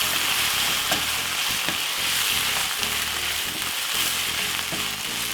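Salt fish frying in a pan, a continuous close sizzle and crackle with intermittent scraping knocks of a utensil stirring through it.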